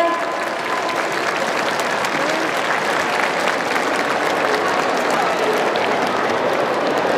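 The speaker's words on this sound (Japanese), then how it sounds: "どうぞ大きな拍手をお送りください。" A crowd claps loudly and steadily after an Eisa drum dance performance at a festival in Tokyo, dense applause filling the whole stretch without letting up.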